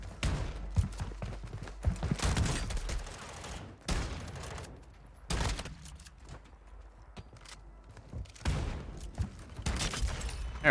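Sawed-off shotgun blasts boom in the video game Warzone, several loud shots spaced a second or two apart, interspersed with quick footstep-like movement sounds and brief quieter gaps.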